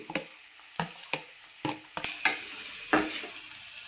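Chopped onions fry in a pan for a taro and egg pulusu, with a light sizzle under a series of about six spoon scrapes and clinks against the metal, close and unhurried.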